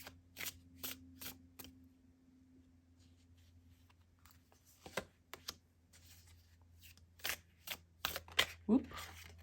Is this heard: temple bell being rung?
no